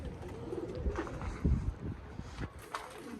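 Homing pigeons coo softly at a loft, a few low murmuring calls with faint rustling close by and no voices.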